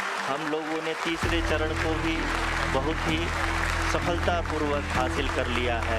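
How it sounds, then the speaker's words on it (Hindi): Applause and cheering fill ISRO mission control during the Chandrayaan-3 lunar landing, a sustained crowd roar with clapping that runs beneath someone speaking throughout. "आप तालियों के गड़गड़ाहट से सुन सकते हैं"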